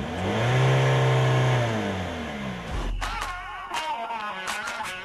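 Car engine revving hard during a wheel spin, its pitch swelling and holding loudly before dropping off sharply, followed by a rougher, clattering, uneven running sound.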